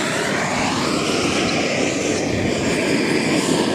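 A cheap multi-fuel stove burning gas at full blast gives a steady, loud, broadband roar that holds even and unbroken throughout, with no talk over it.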